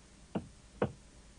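Two distinct knocks, about half a second apart, sound on a door at a moderate distance against quiet background hiss.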